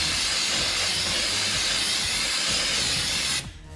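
Brake cleaner sprayed onto the brake caliper of a 2004 Subaru WRX STI, a loud continuous aerosol hiss lasting several seconds close to the nozzle, then cutting off abruptly near the end.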